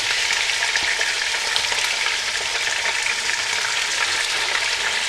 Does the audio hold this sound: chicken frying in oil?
yes